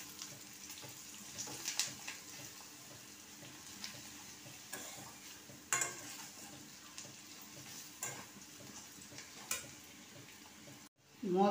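Coriander, turmeric and chilli powder stirred in a pan for pointed gourd pulao, a soft low sizzle with scattered spoon scrapes and taps, close but quiet, ending in a brief louder clatter.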